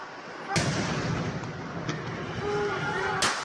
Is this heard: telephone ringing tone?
no